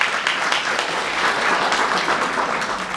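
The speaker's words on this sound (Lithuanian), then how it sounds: "Aplodismentai man." Audience applauding at a theatre play, dense steady clapping from a large crowd, loud and continuous throughout.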